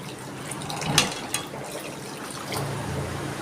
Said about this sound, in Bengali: এবার দিয়ে দিচ্ছি আমি জল।